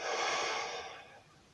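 A single long breath out during a guided breathing exercise, a close, airy exhale that starts strong and fades over about a second and a half.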